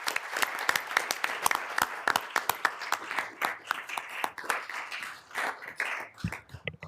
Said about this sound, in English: let's give Greg a big round of applause